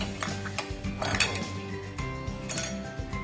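Metal blade being fitted into an SG1251J dual-blade groove cutter, giving a close run of light metallic clinks and taps with no talk.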